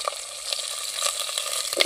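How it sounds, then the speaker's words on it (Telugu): Green chillies drop into hot oil for tempering, giving a steady sizzling and crackling with a few brief pops, moderately close. "ఇప్పుడైతే పచ్చిమిరపకాయలు వేస్తున్నాం."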